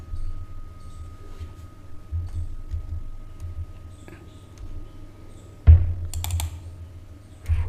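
A computer keyboard is tapped to enter a dimension value in SolidWorks, with sparse scattered keystrokes over a low hum, a louder clack near the end suggesting the Enter key.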